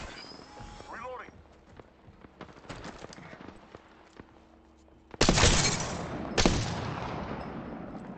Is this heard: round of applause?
no